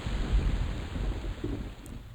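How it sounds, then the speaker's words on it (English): Steady rain and low rumbling thunder in the video game EverQuest, a continuous wash of noise with deep swells underneath, at an even level throughout and with no voices. "raining again."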